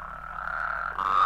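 Toads croak in a swamp, a steady, continuous reedy drone that holds for about a second and swells louder toward the end, with no voices.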